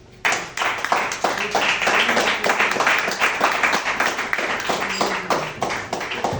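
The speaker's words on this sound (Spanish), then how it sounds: "Bueno, pues un aplauso." An audience at a book presentation breaks into steady, dense applause that holds strong for several seconds, many hands clapping close and loud without talk.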